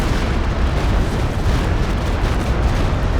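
Walking Stuka rocket barrage in Company of Heroes 2 pounding down as a dense, continuous roar of overlapping explosions, loud and steady throughout with no clear gaps between blasts.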